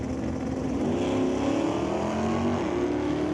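Drag racing cars, an Oldsmobile and an LS-powered '89 Mustang, roaring at full throttle with a loud sustained engine drone that rises in pitch.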